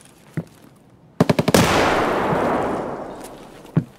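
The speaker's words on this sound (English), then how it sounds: "That's my grenade." A grenade detonating in a shooter video game, with a rapid burst of sharp cracks followed by a loud, rolling blast that slowly fades over a couple of seconds, with a few faint thuds before and after.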